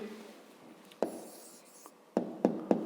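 Pen writing an answer to a fifth-grade maths problem on paper: faint scratching strokes, then several short distinct taps and ticks close by, with no talk.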